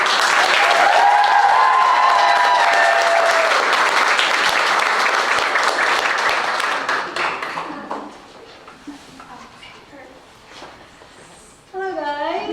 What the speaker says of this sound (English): Begum, let's give her a round of applause.